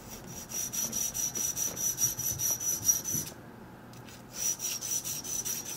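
A key blank is wet sanded with 1000 grit sandpaper while impressioning a Master Lock No 40 disc padlock: a soft, steady rhythmic rubbing and rasping close by, with a short pause partway through before the strokes resume.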